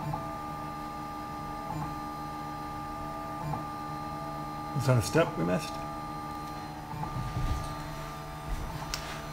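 A Robo R2 3D printer lays down a raft, its stepper motors humming in steady tones broken by short bursts of quick whirring moves, while people talk nearby.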